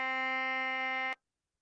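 A single sustained reedy clarinet tone with its attack cut out, giving a flat, buzzy start, held evenly for about a second before cutting off abruptly into silence.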